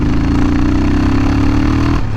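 Royal Enfield Himalayan motorcycle engine cruising steadily in fifth gear, a loud, constant low droning hum with no talking, fading slightly at the very end.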